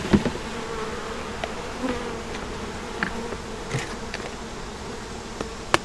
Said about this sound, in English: get all the bees in the corner.